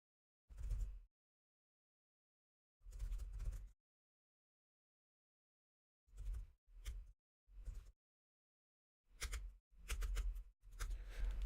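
Someone types code on a keyboard while writing an Angular custom directive: quiet, close bursts of key clicks, some single and some in quick runs, separated by silent pauses.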